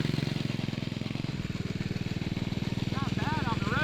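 A 1970 Fox Condor mini bike's small engine with a Tecumseh-style fuel cap runs at a steady, rapid putter, close and fairly loud, with a slight pitch rise partway through and a brief chirp near the end.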